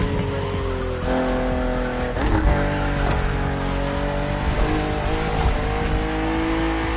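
BMW M4 CSL driving in The Crew Motorfest racing game, a sustained engine drone with shifting pitch and brief tire squeals, heard up close and steady throughout.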